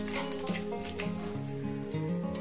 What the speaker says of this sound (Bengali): শুকনো লঙ্কা ফোড়ন 3টে দিলাম আমি, দিয়ে কয়েক সেকেন্ড ভেজে নেব